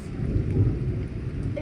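Thunder rumbles low and steady through a storm, a continuous loud roll with rain hiss over it and no break in the sound.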